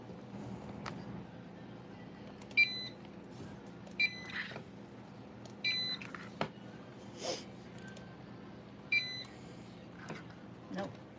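Short electronic beeps from a barcode scanner at a CVS store checkout, sounding several times at irregular intervals over low store background hum and faint voices.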